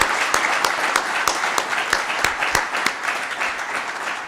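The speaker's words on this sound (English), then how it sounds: "If we could give one final big round of applause for" A room of new graduates and guests gives one last round of applause at a county board gathering, sharp individual claps popping out of a steady, moderately loud patter that thins slightly toward the end.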